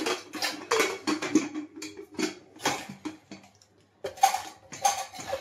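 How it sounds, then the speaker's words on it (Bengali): Metal clinks and clatters of a pressure cooker lid being fitted and closed in a home kitchen while cooking goat meat curry, a series of sharp nearby knocks and scrapes with short pauses. "তো এইবার আমি প্রেসার কুকারের ঢাকনাটা বন্ধ করে দিলাম"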